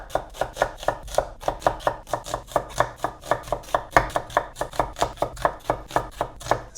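A knife thinly slices onions on a board in a fast, steady rhythm of crisp chops, about four per second, close and loud with no talk.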